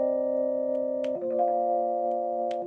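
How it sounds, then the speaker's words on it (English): Sustained electric piano chords from a Fender Rhodes, sampled and triggered from pads, holding steady tones with one chord change partway through, played alone with faint clicks. "I've recorded some chords on my Fender Rhodes in the other room and they sound like this"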